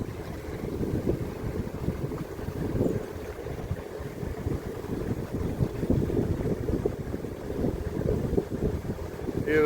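Strong wind buffeting a canal boat on a busy mooring stretch, a loud, gusty low roar and rumble pressing on the microphone the whole time, with no talking over it.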